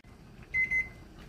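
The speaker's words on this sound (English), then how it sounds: "I'm going to set a timer for 3 minutes." Kitchen timer beeps as three minutes of blanching green beans runs out, two short electronic beeps close together, fairly clear over a quiet room.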